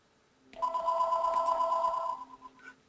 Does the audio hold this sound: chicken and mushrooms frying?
no